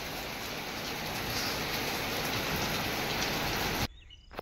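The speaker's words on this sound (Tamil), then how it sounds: "இன்னைக்கு அருமையான மழை பெஞ்சிருச்சு." Steady heavy rain pours down in a village setting, a dense continuous hiss that runs close and loud for almost four seconds before cutting off abruptly into near silence.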